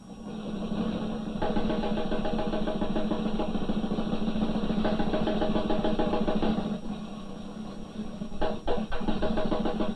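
A car engine idles with a steady, loud mechanical rumble and vibration, dipping and surging slightly near the end.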